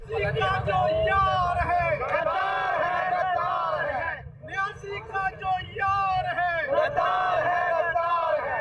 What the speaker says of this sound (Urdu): شربت چوک میں عمران خان کے خلاف نعرے بازی کی گئی